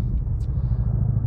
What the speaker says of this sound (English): This wheeled skid steer kind of sucks for driveways.